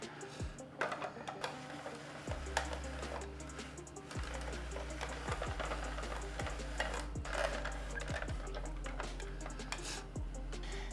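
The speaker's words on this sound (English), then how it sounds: "So I'm just gonna finish spiralizing these zucchinis." A zucchini is turned through a spiralizer into noodles, giving a steady, fairly close scraping and crunching texture punctuated by regular clicks and knocks of the crank mechanism.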